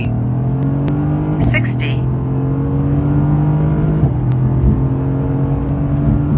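A BMW M5 F90 or AMG GT accelerates hard during a timed pull, the engine rising in pitch through the gears with a clear shift dip, loud from inside the cabin with brief talk over it.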